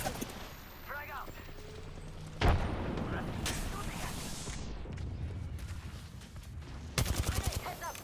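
Video game gunfire crackles in rapid volleys, with a sharp loud burst early on and a dense rattling spray near the end, while a player talks over the shooting.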